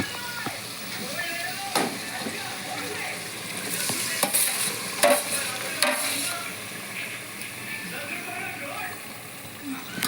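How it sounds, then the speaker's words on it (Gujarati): Bhaji vegetables for pav bhaji are stirred and fried in a pan, with a steady sizzle and scraping stir strokes throughout, under some background voices. "સરસ મજાનું હલાવી નાખશું."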